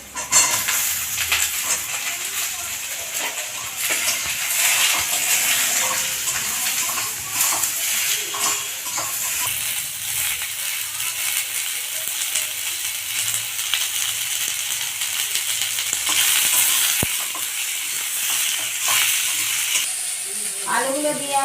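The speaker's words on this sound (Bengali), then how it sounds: "এবার আমি আলুগুলো দিয়ে ভেজে নেব।" Potatoes go into a pan over onions that have already been fried red, and a steady sizzle continues for a long stretch with occasional stirring and utensil clatter throughout.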